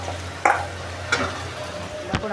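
Finely chopped onions going into a pan of ginger-garlic-chilli paste to sauté for a shellfish masala, giving a low hiss with a few sharp scraping bursts of stirring.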